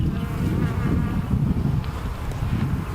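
Dense, steady buzzing of many honey bees in an opened, unsmoked backyard hive, close to the microphone with a little wind noise and no talking.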